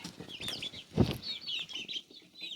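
Chickens feeding on greens give soft, low clucks and scattered high chirps, fairly faint and close, with one louder thump-like cluck near the middle and no talking.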